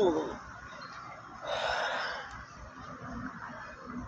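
A deep breath drawn in during a guided breathing exercise, a soft airy inhale swelling for about a second near the middle, then fading into quiet room tone.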